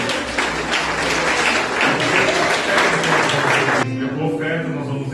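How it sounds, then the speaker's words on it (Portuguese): Applause from a church congregation at a Sunday service fills the room loud and steady, with voices mixed in, then fades into lower murmuring and talk near the end. "Aplauda o Senhor Jesus."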